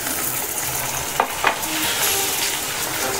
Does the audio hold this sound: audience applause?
no